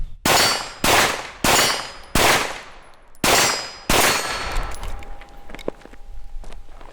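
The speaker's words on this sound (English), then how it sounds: "Just ringing steel like crazy." Several loud, sharp gunshots from a CZ P-10 F pistol in quick succession at about 15 to 17 yards, each followed by a metallic ring of bullets striking steel targets, then a lingering hum and scattered clinks.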